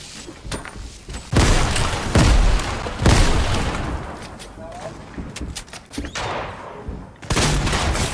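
Bursts of machine pistol fire in a video game crack in loud, rapid volleys with booming impacts, while players talk excitedly throughout.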